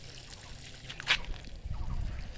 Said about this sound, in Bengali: তারপর ভালো করে জল দিয়ে ভিজিয়ে দিচ্ছি।